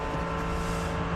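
A race car engine at the Nürburgring 24 Hours roars continuously at full throttle, loud and steady, with a high, sustained whine.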